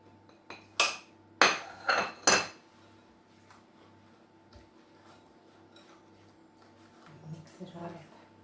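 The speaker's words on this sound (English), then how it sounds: "I'll just scrape that in there." Grated lemon rind is scraped into a mixing bowl with a utensil, four sharp knocks and scrapes in quick succession, followed by quieter clinks and faint rustling in a quiet kitchen.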